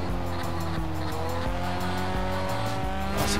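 A Bac Mono racing car drifts in Forza Horizon 3, its engine droning loudly and steadily while the tires squeal continuously through the slide, with a rising whine near the end.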